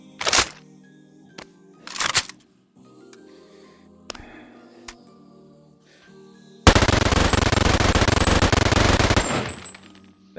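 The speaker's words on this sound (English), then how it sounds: "let's listen to the sound of the gunshots" An MG-42 machine gun in the VR game Boneworks: a few sharp separate cracks and short bursts with quiet gaps between them, then one long, loud, continuous stream of rapid fire lasting about three seconds.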